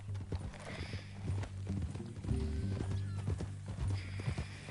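Horse hooves clip-clop steadily in the Red Dead video game, a near, rhythmic clatter of repeated hoofbeats running throughout, with a brief snort or whinny and game dialogue-like sounds mixed in.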